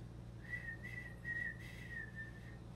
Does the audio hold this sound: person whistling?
yes